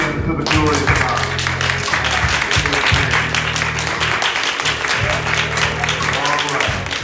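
Church congregation clapping hands steadily throughout, a dense, continuous run of claps close by, with organ or music tones and voices mixed underneath.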